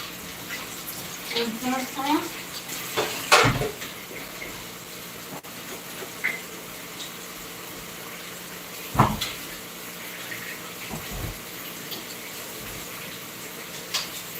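Running water from a kitchen tap while food is washed, a steady close gush with intermittent splashes and clatter, with someone talking over it.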